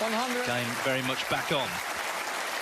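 A snooker crowd at the European Masters final applauds steadily after a century break by Judd Trump, the clapping continuous under a commentator's talk.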